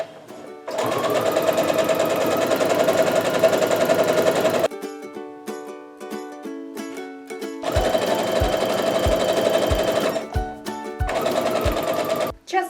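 A sewing machine stitches a scant quarter-inch seam on a quilt block, running in loud steady bursts of rapid whirring, with quieter gaps of handling between the runs.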